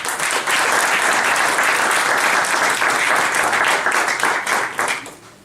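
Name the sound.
strong applause from the audience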